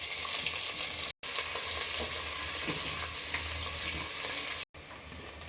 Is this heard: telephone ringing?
no